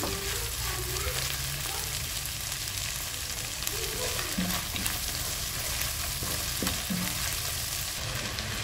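Tomatoes with ginger, garlic and masala frying in foaming mustard oil for a fish curry, a steady dense sizzle with occasional scrapes and stirring clinks, close and continuous without talk.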